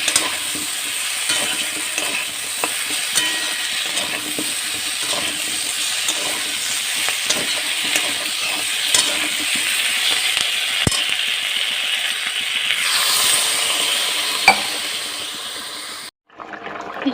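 A fish curry with fried lentil dumplings cooking in a pan, a steady close hiss of sizzling under a long run of stirring scrapes and knocks, ending abruptly.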